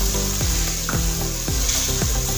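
Chicken fries with yogurt in a karahi, a loud dense sizzle with rhythmic ladle strokes scraping about every half second, close up.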